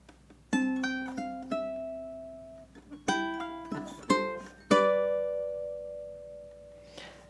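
A ukulele is fingerpicked, the notes plucked singly and in short rolled clusters, each ringing and decaying cleanly with brief pauses between phrases, close and solo.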